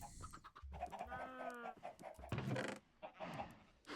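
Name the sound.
chickens clucking in video game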